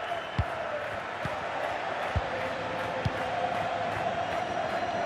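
A virtual stadium crowd roars in FIFA 22 during a La Liga match between Getafe and Real Betis, a steady wash of cheering broken by a few sharp thumps.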